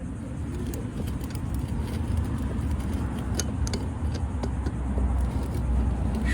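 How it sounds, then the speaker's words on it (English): Steady roar of busy road traffic outdoors at 9 in the morning beside a water main repair site, continuous and fairly loud with passing vehicles blending into a broad rumble, no talking. "It's quite loud too, all the traffic."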